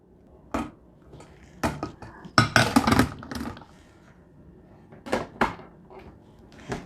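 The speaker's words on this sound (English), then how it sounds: "Now we're gonna put the coffee into the coffee maker and pour the water in." Kitchen handling sounds while a Black and Decker drip coffee maker is filled with coffee and water: separate clunks, taps and plastic knocks in irregular bursts, close and moderately loud, with quiet gaps between them.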